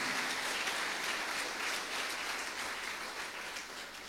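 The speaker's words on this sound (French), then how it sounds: "Sous vos applaudissements, s'il vous plaît." Audience at an award ceremony applauds a student laureate with a continuous, diffuse wash of clapping, fairly faint and distant, holding steady before tapering slightly.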